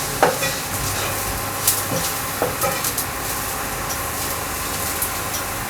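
Sliced onions and green chillies frying in a pan as the base for a soya chunk meal maker curry, giving a steady hiss with a few light stirring knocks and no talk.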